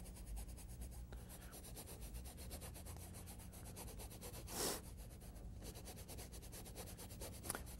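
A paintbrush scrubs and blends paint on canvas for a moonlit snow painting, giving a quiet, continuous rhythmic rubbing with quick strokes and a brief louder swipe partway through.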